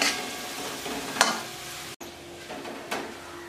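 Chopped vegetables, green chilies and drumstick pods being sautéed for sambar, with a steady sizzle and two sharper scraping stirs of a spoon in the pan.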